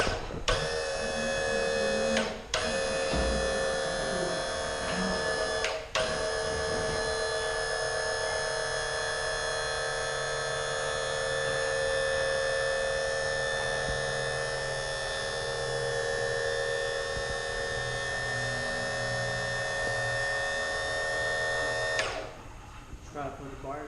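A QuickJack BL-3500 electric lift raises a Mustang with subframe connectors, a steady close electric motor whine and hum that runs almost twenty seconds after a couple of clunks, then cuts off, with people talking briefly around it.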